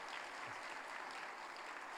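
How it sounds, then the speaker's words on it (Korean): A church congregation applauds a couple's wedding during a worship service, making a dense, even patter of many clapping hands heard somewhat faintly from a distance. "우리 두 분 결혼 미리 박수로 한번 축하하겠습니다"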